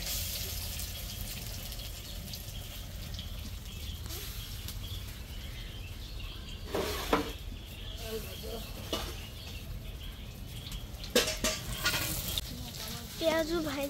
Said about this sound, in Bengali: পেঁয়াজ ভাইজে হচ্ছে